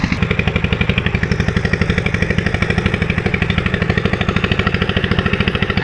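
A tractor engine chugs in a fast, even clattering rhythm, loud and close, as it arrives for rice threshing in rural Laos.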